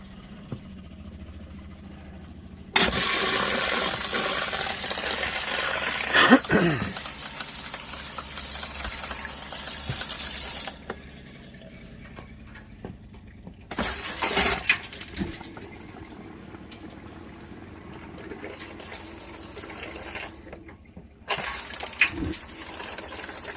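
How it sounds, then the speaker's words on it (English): A water pump runs as it fills a van's water tank, giving a loud rushing hiss that starts, stops and resumes in several long bursts. "So now we're just gonna test it out. Turn the pump on."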